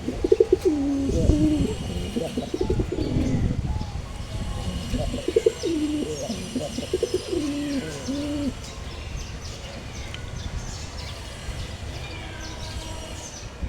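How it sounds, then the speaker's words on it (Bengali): Two pairs of pigeons on a rooftop garden give soft, repeated low coos in the first half, fading into quieter outdoor ambience with faint background noise and no close talking. "এই যে দেখেন দুই জোড়া কবুতর।"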